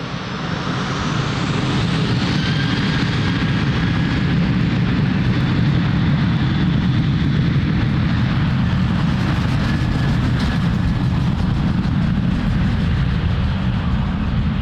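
An aircraft taking off from runway 02 at Lisbon Airport, with a loud, steady engine roar that holds strong for the whole stretch, broad and rumbling with a faint whine on top and no talk.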